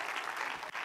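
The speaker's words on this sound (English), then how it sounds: "Come on, somebody clap." A church congregation claps steadily together, a dense, continuous wash of hand claps filling the sanctuary with no break.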